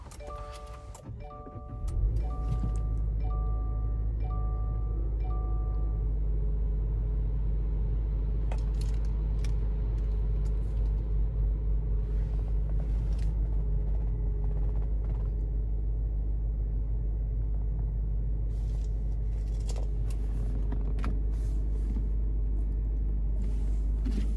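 2020 Subaru Ascent started with a push button, a brief starter whir and catch followed by a steady low idle rumble that carries on alone, with faint creaks and clicks over it.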